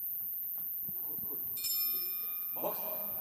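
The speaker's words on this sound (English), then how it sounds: "we'll have to see it all on the ring as the bell is ringing" A boxing ring bell clangs at the start of a bout in an arena, two bright strikes ringing out over a faint crowd murmur and distant voices.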